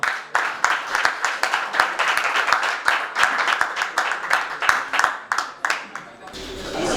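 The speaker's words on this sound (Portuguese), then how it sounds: "uma força de palmas para o nosso convidado" A studio audience claps and applauds to welcome a guest on a Portuguese-language question-and-answer show, steady dense clapping close by for about six seconds before it fades out.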